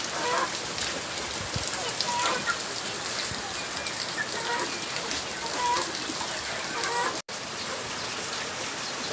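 Heavy rain at a small backyard chicken farm where ducks are also kept: a steady dense hiss of rain on surfaces throughout, with faint fowl calls and someone speaking now and then over it.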